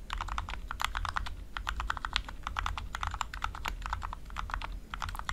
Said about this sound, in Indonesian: Clacky, tapi suaranya tuh khas banget ya dari suara keycaps kayak gini.